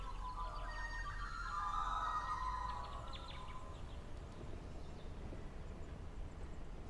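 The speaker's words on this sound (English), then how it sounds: "Yeah, those magpies are noisy." Magpies call in Farming Simulator 25 with a few chattering, tonal calls early on, faint and fairly distant over a steady low rural background hum, then fading into ambient noise.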